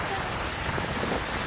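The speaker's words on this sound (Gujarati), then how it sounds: "અનેક વિસ્તારોમાં વરસાદ વરસી રહ્યો છે।" Monsoon rain falling on villages in Surat district, Gujarat, makes a steady, dense hiss that holds at an even level throughout, with no voices.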